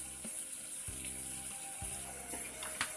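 A glass of water is poured into a pot to be heated, giving a steady close splash and trickle over a low, pulsing background hum.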